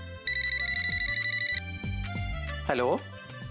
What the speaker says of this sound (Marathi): संजय, फोन उचल.